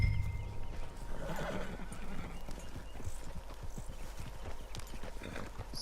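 A horse in Red Dead Redemption 2 whinnies near the start, followed by a steady clip-clop of hooves at moderate volume over ambient game background.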